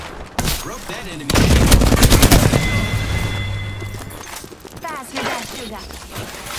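Bursts of gunfire in the battle-royale shooter Apex Legends, a loud sustained volley with heavy low booms near the middle, then thinner scattered shots as game sounds carry on around them.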